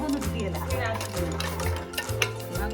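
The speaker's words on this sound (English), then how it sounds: "Just continue stirring it so that it will not stick to the pan." Payasam, a Kerala dessert sweetened with jaggery, being stirred in a bronze pan, with steady repeated scraping and swishing strokes close by and no talk over them.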